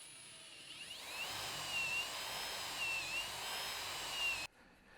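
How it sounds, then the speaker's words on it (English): A power drill drilling dowel pilot holes in wood whines continuously for several seconds, pitch wavering slightly under load, then cuts off abruptly near the end. "Go ahead and drill all those pilot holes for those dowels."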